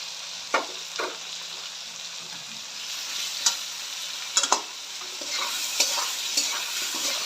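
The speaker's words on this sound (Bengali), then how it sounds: "আর ভালো করে মশলাটাকে কষিয়ে নেব" Spice paste of ginger paste and dry red chili powder frying in a pan, a continuous close sizzle broken by repeated scraping stirs and a few sharp knocks of a spoon, with no voices.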